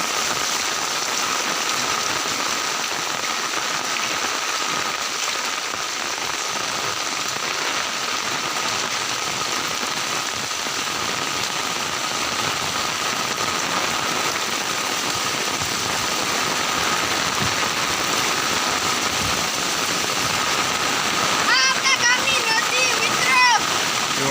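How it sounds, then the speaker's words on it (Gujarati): Steady, dense rush of heavy monsoon rain pouring down on a village, a continuous wash of water noise with no pauses and a brief patter of splashes near the end. "જુઓ આ પાણી આ વરસાદ"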